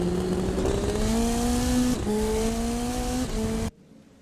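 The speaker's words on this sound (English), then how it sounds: "I'm listening to the burbles as we go off throttle" An Indy NXT race car on the Portland circuit, heard on board as the engine note drops off throttle with rising and falling whines and sputtering burbles, loud and close, before cutting abruptly to near silence.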